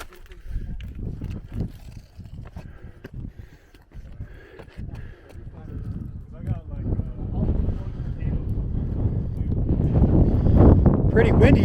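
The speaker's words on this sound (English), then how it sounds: "Pretty windy up here." Wind at a mountain viewpoint in Tahoe National Forest during a 4x4 off-road trip, a rough low buffeting rumble that grows steadily louder and heavier toward the end.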